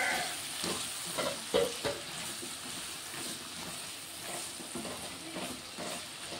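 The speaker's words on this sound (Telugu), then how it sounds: "ఇదిగోండి వంకాయలు వేసుకుంటున్నాం. ఇప్పుడు ఒకసారి కలిపేసుకున్నాం." Brinjals frying in a pan while being stirred, with a soft steady sizzle broken by scraping, clattering stirring strokes, quiet and close.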